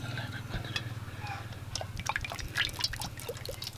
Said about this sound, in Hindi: तो अभी कढ़ाई में कुकिंग ऑयल डालेंगे